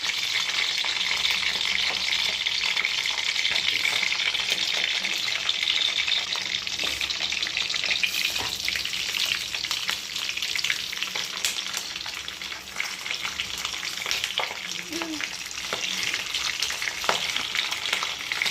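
Coconut oil frying in a pan, a steady dense crackle and splatter that stays loud and close throughout, with a few sharper pops near the end.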